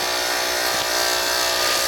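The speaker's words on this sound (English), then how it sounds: "Alright, I'm going to sand this." Steady, continuous sanding hiss on a pen blank, loud and close throughout with a slight dip and swell midway, no talking.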